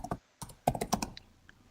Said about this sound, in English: So I'll let you finish that typing